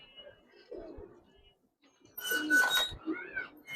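Old-breed Giribaz pigeons give a soft, low coo early on, followed by a louder burst of rustling and fluttering noise nearby.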